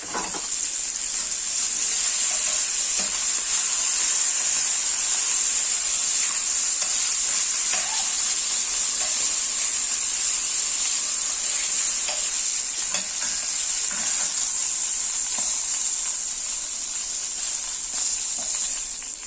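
Pork fillet searing in a hot pan, a loud, constant close sizzle and hiss that holds steady throughout, with occasional small pops and no talking.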